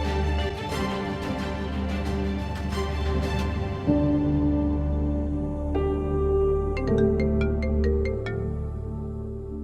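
A phone rings after a call is dialed, with a bright electronic ringtone melody that shifts through stepped tones and then ends in a quick run of short, high chiming pulses, loud and close.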